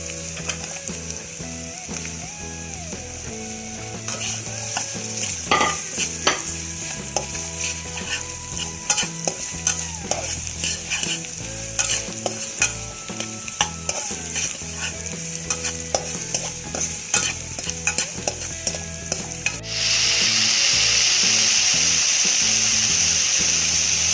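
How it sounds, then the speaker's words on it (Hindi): Garlic and carrot stir-frying in a pan for chicken manchurian, with a continuous sizzle and repeated scraping, clinking stirs of a spatula, and the frying turns louder and hissier toward the end. "लहसुन फ्राई हो गया। अब मैं इसमें गाजर शामिल कर दूँ।"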